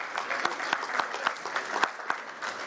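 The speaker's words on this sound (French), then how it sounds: "Aux applaudissements, merci, merci" Light applause at a finance and insurance conference panel as a trophy is handed over, a modest group clapping with uneven, clearly separate hand claps at moderate volume, no talking over it.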